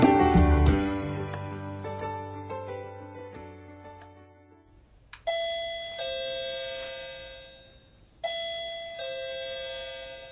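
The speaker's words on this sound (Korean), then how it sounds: "띵동 초인종 소리가 들렸고 그 소리에 잠에서 깼다." A doorbell chimes twice, two clear ding-dong tones ringing out and decaying, following a fading low musical passage; no voices.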